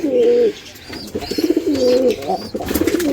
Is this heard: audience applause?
no